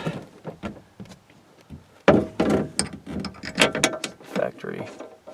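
A bolt is ratcheted tight while fitting a rear seat headrest in a Ford F250 Super Duty, a close series of quick clicking, grinding turns in uneven bursts.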